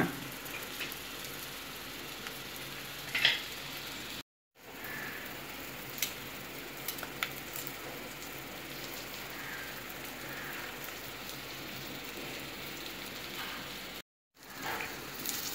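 Egg pepper fry cooking over a low flame in a pan, a steady soft sizzle and crackle that runs evenly throughout, with brief gaps of silence.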